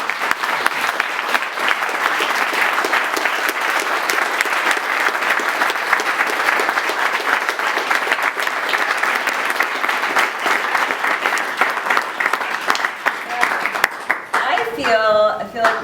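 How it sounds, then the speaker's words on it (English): Sustained audience applause for the musicians at a modular synthesizer event, dense steady clapping throughout, with a brief electronic tone near the end. "So maybe we can start by giving them a round of applause."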